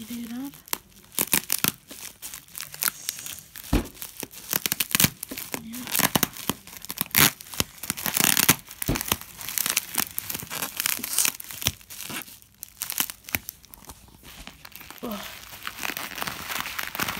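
Packaging around a Dell Optiplex 9020 PC being torn open and crinkled in repeated ripping bursts, close to the mic, with someone talking intermittently over the noise.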